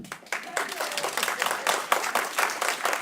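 Audience applauding candidates at the 2025 Orleans Parish sheriff forum, dense steady clapping from a roomful of people throughout, fairly near and even in level.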